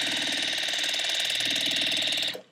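Sewing machine stitching a quilt seam, a steady, fast mechanical whir of rapid needle strokes running close and continuous before stopping abruptly at the end.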